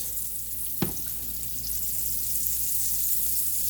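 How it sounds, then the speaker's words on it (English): Potato latkes fry in olive oil with a steady, loud, close sizzle and one brief clatter near the start. "We're gonna put a little bit more olive oil around there."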